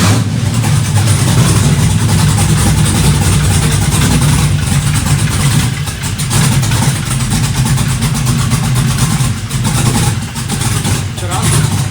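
An LS-swapped 5.3 V8 in a 1972 Nova cranks, catches and settles into a loud, rough, steady idle that runs throughout, close up.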